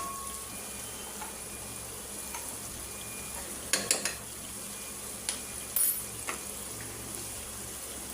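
Vegetables stir-fry in soy sauce in a pan, a soft, steady sizzle with occasional clinks and scrapes of a utensil stirring against the pan.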